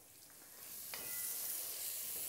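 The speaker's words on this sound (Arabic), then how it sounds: "كله هيتشوح في بعضه." Onions and leeks sautéing in a pan, a steady soft sizzle that swells slightly louder partway through, with a single brief utensil tap near the start and no voices.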